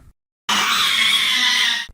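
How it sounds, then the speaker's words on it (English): A monstrous shriek rises from the depths of a pit, bursting out of silence as one loud, harsh, sustained scream that holds for over a second before cutting off. "the shriek that came from the depths of the bottom of the pit"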